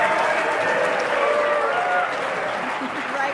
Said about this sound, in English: Now they are giving applause to one of the retiring Sergeant of Arms.